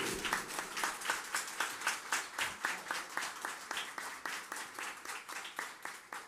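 Audience applause at a Casa do Caminho lecture, rhythmic unison clapping from a gathered crowd in a steady beat of roughly three claps per second, moderately distant and even throughout.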